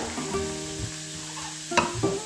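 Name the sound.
frozen yellow and green bell peppers frying with carrots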